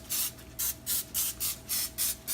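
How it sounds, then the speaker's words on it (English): Eight short bursts from a canola oil spray can, evenly spaced and close, lightly misting baked cheeseburger potstickers on a pan, with brief silent gaps between each hiss. "I'm gonna spray them with canola oil and see how this batch turns out. I'm just gonna lightly spray them."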